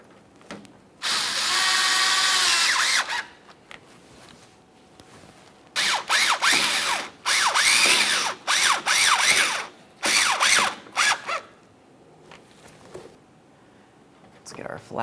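A power tool snugs the fasteners on a radiator cooling fan assembly in a 2017-2024 GMC Acadia, giving one long whirring run followed by several short, loud bursts close by.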